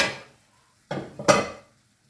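Metal lid set onto a cooking pan during a Thai green curry chicken with coconut milk: a brief clatter, then two quick clanks a moment apart as it settles into place, close and clear.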